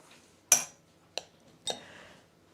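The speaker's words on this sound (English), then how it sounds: "Then I'll put a spoon in each one to stir it up." Metal spoons clink against bowls of protein cookie mixture, three sharp separate knocks spaced about half a second apart, close and fairly loud in a quiet kitchen.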